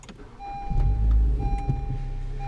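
Honda Civic Si starting up, a brief starter whir rising into a low engine rumble that settles to a steady idle, heard close from inside the car.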